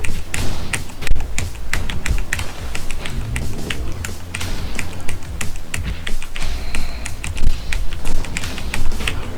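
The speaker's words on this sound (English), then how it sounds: "My mechanical keyboard is going to be pretty loud, but it's a lot more accurate." Rapid, loud clacking of a mechanical computer keyboard during a rhythm-game speedrun match, keystrokes rattling in quick bursts with occasional heavier thumps, continuous for the whole stretch without talk.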